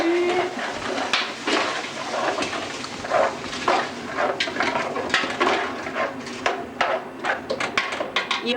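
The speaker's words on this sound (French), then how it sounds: "On remue." Salt pork, raw ham, onion, leek and garlic being stirred in a cooking pot, with continuous sizzling and scraping, irregular clinks and knocks of the utensil against the pot, steady and close throughout.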